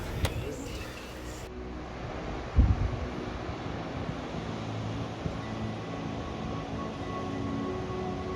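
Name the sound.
ocean waves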